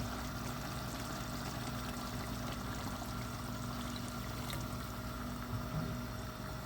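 Water is poured into a pot of simmering beef neck stew with onion and tomato, making a continuous, even stream and bubbling wash at moderate volume throughout, with no voices.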